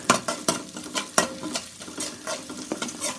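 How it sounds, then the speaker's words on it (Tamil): Chopped garlic fries in butter in a pan while being stirred briskly, with a close, continuous sizzle broken by rapid scraping strokes of the spoon. "நல்லா அது கொஞ்சம் ஸ்மெல் வர மாதிரி நல்லா ஃப்ரை பண்ணிக்கோங்க."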